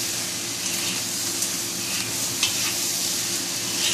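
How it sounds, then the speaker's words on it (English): Rice for nasi goreng stirred in a pan with vegetable oil, giving an even close hiss of frying with faint scrapes and a few light knocks. "Rice, a good stir."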